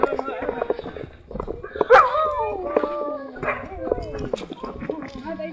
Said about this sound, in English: We're seeing the doggies now.